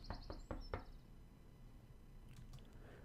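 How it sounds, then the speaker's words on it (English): Four quick knocks on a wooden door in the visual novel game Everlasting Summer, crisp and close, clustered in the first second, then quiet room tone. "I'd better knock first."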